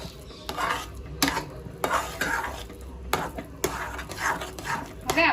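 Sweet potato shiro being stirred with sugar in a pan, a spoon scraping and clinking against the pan in repeated strokes, with a soft sizzle underneath.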